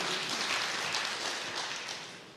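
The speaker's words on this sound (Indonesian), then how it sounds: "Berikan tepuk tangan yang meriah." Congregation applause during an Indonesian Christian church sermon, a steady wash of clapping from a crowd that tapers off slightly toward the end, with no talking over it.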